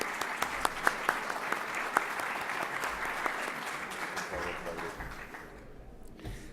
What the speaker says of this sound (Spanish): Un aplauso muy afectuoso para ambos.